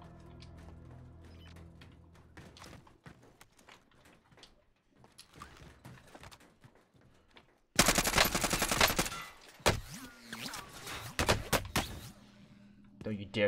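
Call of Duty Warzone gunfire: scattered single game shots at first, then a dense, loud automatic burst lasting a few seconds, followed by further volleys, with players talking over the action.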